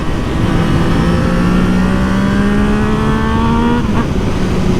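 A 2020 Yamaha MT-09 motorcycle engine revs loud and close, pitch climbing steadily for nearly four seconds before dropping off sharply, with no talk over it.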